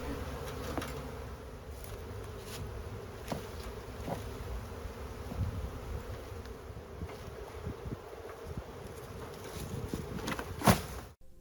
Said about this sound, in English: most of the bees actually did come up off the ground and fly back into the box